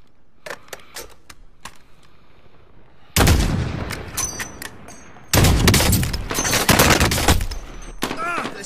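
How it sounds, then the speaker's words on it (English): Gunfire in Call of Duty Modern Warfare Warzone on PS4: scattered single shots give way to loud, dense bursts of rapid automatic fire. Battle noise fills the gaps between volleys. "Shooting at me!"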